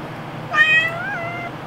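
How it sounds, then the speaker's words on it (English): A cat lets out a single close, drawn-out meow during rough play, rising then trailing off over about a second against a quiet room. "You're meowing at me and you're fighting me."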